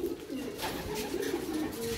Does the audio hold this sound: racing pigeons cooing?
yes